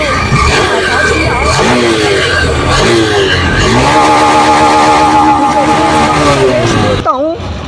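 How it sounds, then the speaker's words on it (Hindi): A Honda Livo 125 BS6 motorcycle engine runs loud and close, its revs rising and falling as the throttle is opened, with a steady idle beneath and a brief drop near the end. "अब जैसे मैं बाइक को स्टार्ट किया है और इसका एक्सीलेटर दूंगा"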